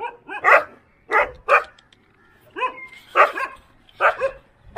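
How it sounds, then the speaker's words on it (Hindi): Several village dogs on a dry rural road in Tamil Nadu bark in repeated bursts, loud and close, with short yips between the barks and brief pauses. "बहुत सारे कुत्ते यहाँ पे आ गए"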